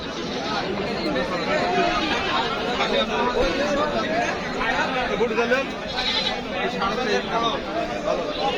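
Goats bleating amid a crowded livestock market at Baneshwar haat in Rajshahi, with large goats on sale before Eid al-Adha; repeated nearby bleats sound over constant crowd chatter, while someone speaks throughout.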